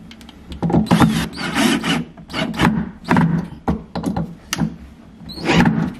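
A screw is driven in by hand to fasten a part, giving repeated close, scraping, rasping turns in uneven bursts with short pauses between strokes.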